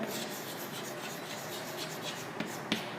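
Steady scratchy strokes of writing on a board during a chemistry class, continuous and close, with a couple of sharper taps near the end.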